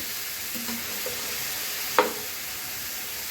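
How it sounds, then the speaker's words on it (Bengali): Beans, potato, green chili, onion, salt and turmeric frying slowly together in a pan, giving a soft steady sizzle with a couple of faint stirring scrapes and one brief clatter of the spoon. "এখানে শিম আলু কাঁচামরিচ পেঁয়াজ লবণ হলুদ দিয়ে এখন আস্তে আস্তে করে ভেজে নিব"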